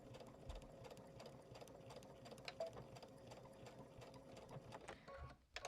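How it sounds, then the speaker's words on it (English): A sewing machine runs close and steadily, backstitching a seam on a Lonestar quilt with a fast mechanical whirr and needle rattle, briefly slowing near the end, with no voices. "I am going to backstitch this as well."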